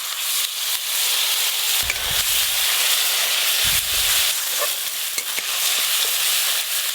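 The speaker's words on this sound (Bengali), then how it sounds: "লঙ্কা গুঁড়ো, সামান্য একটু জল দিয়ে কষে নেব।" Spices with chili powder and a little water fry in a pan for a spicy eggplant curry, a steady loud sizzle running throughout with two short low stirring scrapes, no voices.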